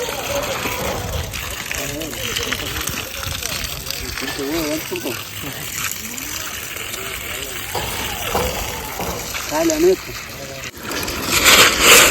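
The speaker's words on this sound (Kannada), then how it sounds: "ನೀರು ಬಿಡ್ತಾ ಇದ್ದಾರೆ" Water gushes and splashes steadily in the background on a tiny-house building site while people talk over it, with a louder burst of splashing near the end.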